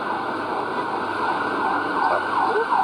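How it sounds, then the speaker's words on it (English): A steady ambulance siren sweeps and wails throughout, fairly loud against ongoing street noise, as the emergency vehicle heads west along a city road. "Emergency vehicles. We've got an ambulance, but it is going west on Shepherd."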